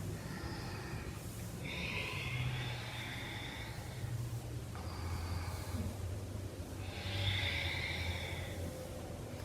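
Steady in-and-out breathing during a moonlit yoga flow, two broad, airy breath swells rising around the second and seventh seconds over a low, continuous background hum, close and fairly quiet, with no talking.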